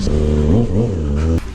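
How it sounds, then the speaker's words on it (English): A Kawasaki Ninja 636 sport motorcycle with an RSC shorty exhaust revs loudly up close, a harsh steady engine roar that rises and dips in pitch before cutting off sharply near the end. "This RSC little shorty exhaust does not do much to hide the noise."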